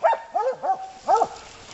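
Hunting dogs bark during a Tennessee hog hunt: four sharp, close barks in quick succession with a short pause before the last, no talking.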